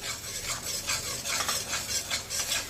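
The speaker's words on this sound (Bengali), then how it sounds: "বেসনটাকে এবার খুব সুন্দর মতো ভাজতে হবে।" A spoon stirs and scrapes gram flour roasting in melted ghee over a low flame, a steady soft rasping shuffle that keeps going, close and fairly quiet, with no voices.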